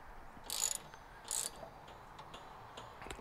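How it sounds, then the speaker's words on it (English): A ratchet tightening an 11 mm bolt on a Santa Maria grill attachment for a Kamado Joe Kettle Joe gives two short, close bursts of metallic clicking, followed by fainter ticks and handling noise. "I have an 11 mil on my ratchet right here, so we'll just give it a little tighten up."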